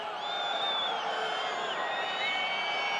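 Rugby crowd at a Top 14 match between Montpellier and Aviron Bayonnais, hooting and whistling, with high piercing whistles gliding over a dense, steady stadium roar.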